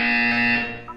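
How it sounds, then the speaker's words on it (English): A steady electronic buzzer from the video game Portal 2 drones loudly and continuously for about a second, a harsh sustained tone that fades slightly near the end, with no talking. "When you hear the buzzer, look up at the ceiling."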